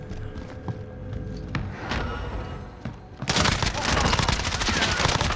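Gunfire in the video game Call of Duty: Warzone: scattered sharp shots and thuds at first, then a sudden burst of heavy, continuous firing and noise that stays loud to the end.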